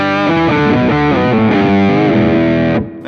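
An electric guitar run through an octave pedal plays loud, distorted single notes, with thick doubled lower octaves filling out the bottom end, ending in a brief cutoff.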